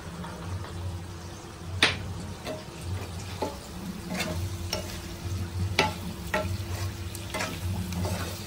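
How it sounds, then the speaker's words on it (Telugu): Mutton stirred with masala chili powder and coriander powder in a sizzling pan, a quiet steady fry with scraping stirs and occasional sharp clinks of the spoon against the pan. "ఇదైతే ఒకసారి కలిపేసుకుందామండి ఈ కారం అవి పట్టేలాగా"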